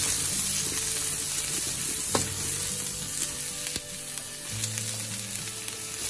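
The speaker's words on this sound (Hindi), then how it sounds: "इसको तेज आंच पे इसको मैंने स्टर करना है" Chicken with red and green peppers stir-fried over high heat, a loud continuous close sizzle with occasional clinks and scrapes of a spatula against the pan, no talk.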